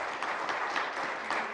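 Members of the Newfoundland and Labrador House of Assembly applaud in the chamber, giving steady, even clapping from a room full of people with no voices over it.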